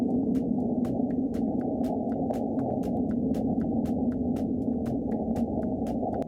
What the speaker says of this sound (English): That was the sound of a magnitude 4 quake on the Martian surface.